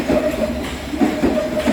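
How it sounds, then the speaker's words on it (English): A London Underground tube train rumbles past nearby on the Thameslink corridor near Moorgate, with rhythmic clattering wheels and a steady motor hum, loud and continuous. "There's a tube train right now."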